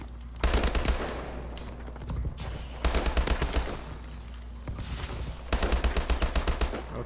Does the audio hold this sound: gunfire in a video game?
yes